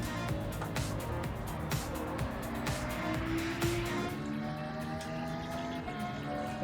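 A tuned 560 bhp Lexus LFA in Gran Turismo 7 howls along, its engine tone climbing and dropping steadily over road and tyre noise. The engine is moderately loud with no talk over it.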